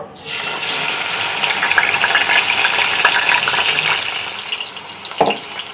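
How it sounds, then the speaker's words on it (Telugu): Steady, loud sizzling of blended onion paste frying in hot oil, a continuous crackling hiss with a brief sharper clatter near the end. "నూనె అయితే వేడెక్కిపోయిందండి దీంట్లోకి మిక్సీ పెట్టుకున్న ఆనియన్స్ అయితే వేసుకుంటున్నాను"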